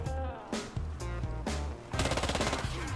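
A Scorpion gun fires in Warface in rapid, close automatic bursts, several short strings of shots with brief gaps, the densest rattle coming in the final second.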